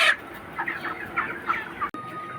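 Chickens cluck in quick, agitated bursts while being chased around a farm, a run of sharp near calls broken by a brief thud near the end.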